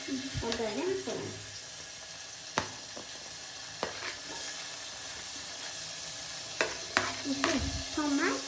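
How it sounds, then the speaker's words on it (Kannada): A tempering of tomato and onion sizzles in a pan after mustard seeds, a steady close hiss with sharp stirring knocks and scrapes, while a voice briefly murmurs in the background. "ಇವಾಗ ಸದ್ಯಕ್ಕೆ ಟೊಮೊಟೊ ಮತ್ತು ಈರುಳ್ಳಿನ ಒಗ್ಗರಣೆ ಹಾಕ್ಕೊಳ್ಳೋಣ."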